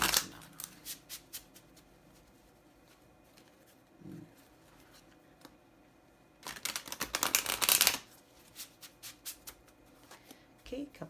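A deck of tarot cards being shuffled, with short riffling bursts and soft taps early on and a louder, denser flurry of shuffling in the middle, close and otherwise quiet.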